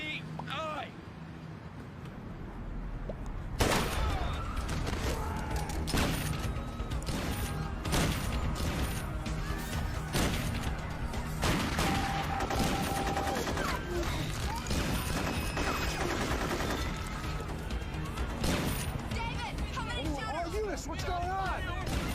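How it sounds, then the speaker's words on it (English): Shootout with multiple shooters firing, dense volleys of gunshots erupting after a quiet start and continuing in rapid, overlapping bursts, with shouting voices heard among the shots. "Shots fired!"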